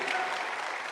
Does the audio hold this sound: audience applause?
yes